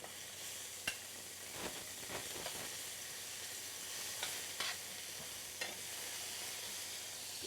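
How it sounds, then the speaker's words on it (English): Peppers in olive oil sizzle steadily in a pan right after steaks were cooked, a continuous close frying hiss broken by a few light stirring clicks and scrapes. "we're going to add our peppers in, same dish"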